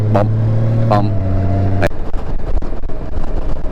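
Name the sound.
Honda Gold Wing motorcycle being ridden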